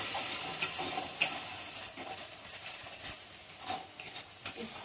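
Whole garam masala spices fry in a pan with salt, giving a steady soft sizzle broken by a few sharp scraping stirs and small crackles. The sound is close and moderately quiet.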